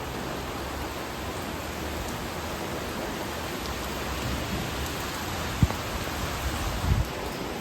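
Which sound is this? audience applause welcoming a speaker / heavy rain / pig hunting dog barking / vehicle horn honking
heavy rain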